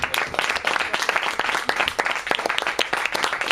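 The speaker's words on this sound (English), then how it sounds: "Let's have a round of applause." An audience applauds a panel after a Brexit discussion at Banquet Records, lively and close, with many distinct hand claps popping through a dense, even wash for the whole stretch.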